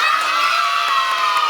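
Crowd of children and adults cheering and whooping in a lively, continuous wash of voices at a Jollibee party, loud and close with no distinct pauses.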